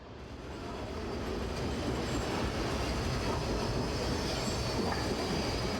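A metro train rides the rails with a loud, continuous rumble and clatter, with thin wheel squeals running through the steady noise.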